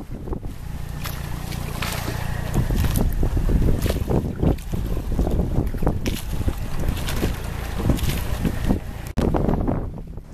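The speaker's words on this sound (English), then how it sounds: "The breeze continues to freshen, and we come into some low swells rolling across the sound." Steady wind rushes around a sailing boat on a sound as the breeze freshens and low swells roll in, with irregular water slaps and buffeting against the hull, loud and close.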